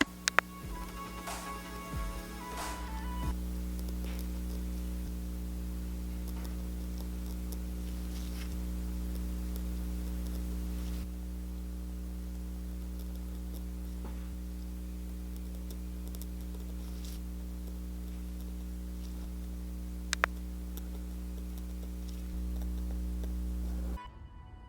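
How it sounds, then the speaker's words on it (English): Microblading strokes drawn by hand across practice tape with a blade tool, giving faint, scratchy, Velcro-like rasps, a few sharper clicks near the start and a steady quiet hum underneath, with no voices. "What's cool about this tape is it makes that same Velcro sound you hear when you're microblading on skin."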